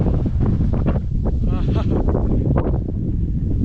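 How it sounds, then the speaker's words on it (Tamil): Strong wind buffets the microphone in a constant low roar during a motorcycle ride, with a voice speaking over it. "சூப்பராக இருக்குது காற்றடிக்கும் போது."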